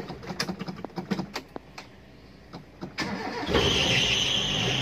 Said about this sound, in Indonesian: jadi langsung kita starter guys